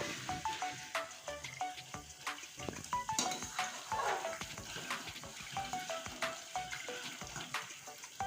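Milk cream (malai) cooks down into ghee in a pan, giving a continuous soft sizzle and bubbling crackle with frequent small pops and occasional stirring scrapes, close and fairly quiet, with no talk.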